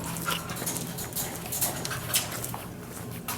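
A blind dog whines and pants softly in a kennel while anxious, with faint patter and shuffling, a steady low-level restless sound lasting throughout.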